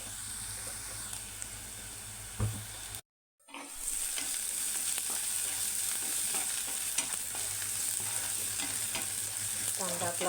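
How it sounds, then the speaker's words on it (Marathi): Chopped onion sizzles and fries steadily in a pan while being stirred, a close, continuous hiss with scraping, briefly cut silent once partway through. "बघा आता कांदा किती पटापट आपला भाजला जातो"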